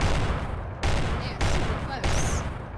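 Bursts of rapid gunfire in the survival game Rust, three loud volleys separated by brief pauses, with voices talking over the shooting.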